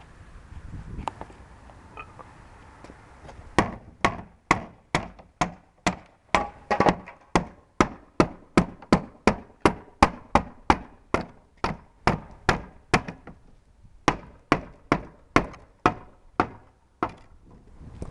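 A hammer knocks boards off a cheap single-use imitation wooden euro pallet: about two dozen loud, sharp wooden blows in a steady, evenly spaced rhythm, close by with no talking.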